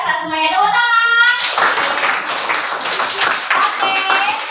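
Children in a classroom break into a burst of hand clapping, a dense scattered patter lasting a few seconds right after a voice.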